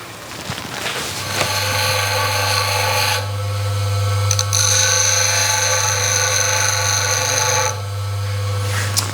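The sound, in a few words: grinder sharpening a woodturning tool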